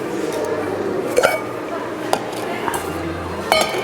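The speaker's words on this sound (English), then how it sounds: "I just scrape all that pineapple out like that with a spoon" A metal spoon scrapes and clinks against a hollowed pineapple shell while scooping the fruit into a container, giving a few scattered clicks and scrapes over a low background hum.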